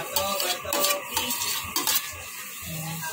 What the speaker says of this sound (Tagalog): Lagay ko na rin mga kaibigan ng aking mushroom